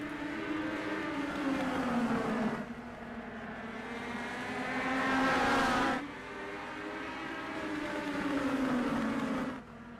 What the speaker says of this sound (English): Legend cars on track.